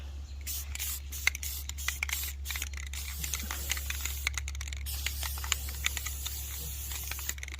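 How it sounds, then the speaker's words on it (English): An aerosol can sprays paint onto a Ford E-250 cargo van's trailer hitch in repeated hissing bursts over a steady low hum, with faint clicks and rattles between passes, nearby. "It's not gonna be perfect because I'm spraying."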